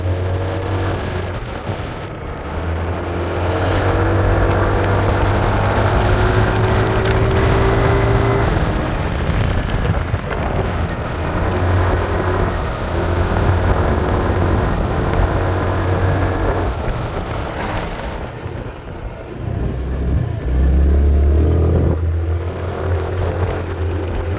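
RKS Grace 202 motorcycle engine pulling up a ramp, a loud continuous drone with wind noise, the revs rising and falling as the rider climbs, close throughout and without speech.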